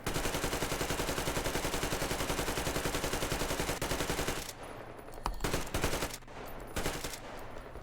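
Rapid automatic gunfire from a video game weapon, a fast steady burst of shots for about four seconds, then choppier, sparser bursts with pauses between them.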